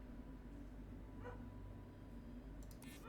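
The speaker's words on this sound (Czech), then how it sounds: "A psi venku štěkají." Dogs bark outdoors in the game Starfield, a few faint yips and woofs set back in the distance over a steady ambient hum, with no speech.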